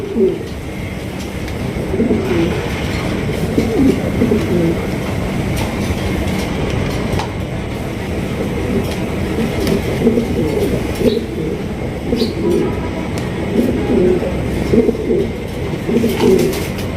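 Large pigeons held for sale coo in low, repeated bursts across the whole stretch, close by and fairly loud, with soft wingbeats and shuffling around them.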